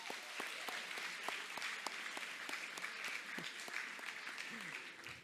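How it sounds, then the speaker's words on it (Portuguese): Audience applause at a university lecture welcoming a professor to the panel table, a steady patter of many hands clapping at moderate distance with faint voices underneath. "uma salva de palmas."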